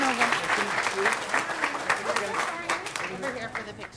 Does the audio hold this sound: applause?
yes